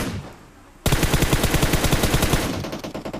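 Rapid automatic gunfire in the mobile shooter PUBG Mobile during red-dot aiming practice, a loud steady burst of evenly spaced shots after a brief quiet start, tapering slightly toward the end.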